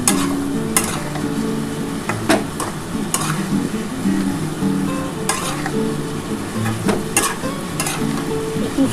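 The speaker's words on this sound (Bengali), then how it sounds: "এটা একটু নাড়াচাড়া করে নেব" Small chuno fish curry with spring onion and potato sizzles steadily in a pan while a spoon stirs it, with scraping clicks recurring every second or so, close and fairly loud, with no voices.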